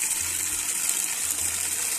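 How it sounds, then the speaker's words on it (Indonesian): Tap water runs into a cooking pot in a steady, hissing gush at close range, with a faint low hum pulsing underneath and no speech. "air keran itu yang banyak"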